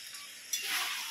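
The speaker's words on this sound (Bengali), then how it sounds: "এবারে দিয়েছি মাংসটা পোড়াতে" Chicken meat frying in a pan gives a short burst of close, hissing sizzle that swells suddenly partway through and stays bright to the end.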